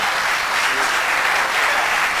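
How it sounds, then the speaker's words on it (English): A large audience claps steadily in a dense, even burst of applause at a ceremony, loud and sustained with no pauses. "Let's clap for him."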